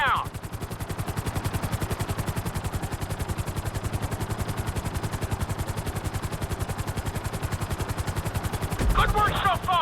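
Helicopter in GTA V flight school, flying with rapid, steady rotor chop that pulses throughout, loud and close, with a brief burst of extra clatter near the end.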